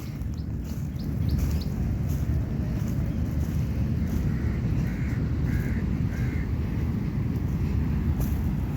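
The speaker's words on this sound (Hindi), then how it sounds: "यहाँ पर महसूस करें परिंदों की चहचहाहट" Birds, likely crows, caw and call in a fruit forest in Karachi, a few distant calls over steady wind noise outdoors.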